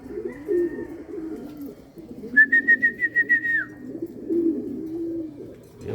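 Racing pigeons returning to their home loft: a low, steady cooing and wing rustle runs throughout, with a clear rising whistle-like call of rapid pulses in the middle, close and moderately loud.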